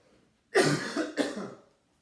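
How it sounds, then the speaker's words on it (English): Two close, loud coughs in quick succession, harsh and breathy, with silence before and after. "got that cough"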